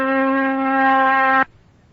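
Pure, steady oscillator tone at 256 cycles per second, loud and even for about a second and a half before stopping sharply, leaving near silence.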